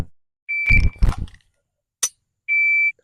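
Two electronic shot-timer beeps during pistol draw practice: a steady tone near the start, a pause filled with short thumps and handling noise, a brief sharp click, then a second steady beep at the end.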